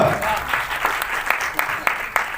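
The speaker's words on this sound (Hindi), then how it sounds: "तालियां।" Applause from an audience at a launch event for a Hindi album, a steady wash of clapping with scattered sharper claps standing out, fairly close and continuous throughout.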